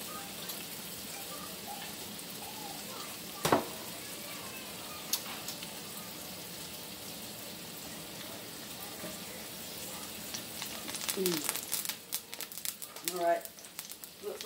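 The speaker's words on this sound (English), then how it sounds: "that grease is popping" Onions frying in grease in a pan, a soft steady sizzle with small pops that thicken and crackle louder toward the end, one sharp knock early on.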